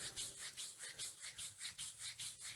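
Palm rubbing along a forearm from elbow to wrist during a qigong self-massage, soft rhythmic swishing strokes repeating about five times a second, close and faint, with no voices.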